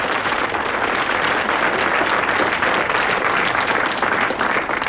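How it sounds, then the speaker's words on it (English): Sustained audience applause fills the room, many hands clapping steadily and loudly without a break, with no talking over it. "get another round of applause"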